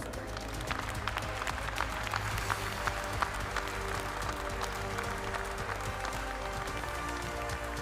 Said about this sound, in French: Encore un tonnerre d'applaudissements à vous tous.